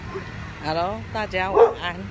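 Several dogs yip and bark at night by the sea in short bursts, mixed with a person talking over them close by.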